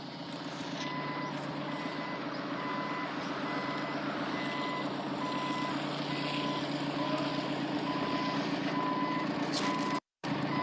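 A truck carrying pallets slowly reverses on a road, its steady engine drone running throughout with repeated reversing beeps over it; there is a brief dropout near the end.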